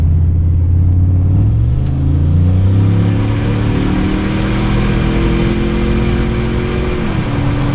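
A turbocharged Chevrolet Silverado pickup accelerates hard in third gear, its engine roaring loud and close as the pitch climbs steadily through the whole run, with a slight shift in tone near the end.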